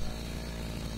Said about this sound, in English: Why do I hear a chainsaw, Steve?